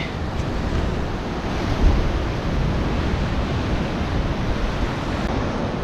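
Sea surf breaking steadily along a rough shoreline during shore fishing for sea bream, a continuous loud wash of waves with wind buffeting the microphone, no voices.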